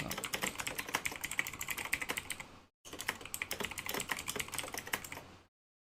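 Rapid clicking of fingers typing on a computer keyboard, close and steady in two bursts separated by a short pause, with no voices.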